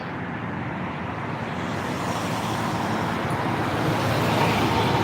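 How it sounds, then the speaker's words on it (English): Steady road traffic on a city street at night in Miami, Oklahoma, a continuous roar of cars and larger vehicles passing close by that swells slightly toward the end, with no break in the flow. "I'm trying to cross the street, but there's a lot of traffic tonight."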